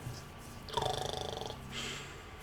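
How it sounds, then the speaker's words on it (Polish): Snoring from a sleeper in a Minecraft survival game, a rhythmic rattling snore burst in the middle with softer breathing around it, faint and close. "Chrapałeś strasznie, wiesz?"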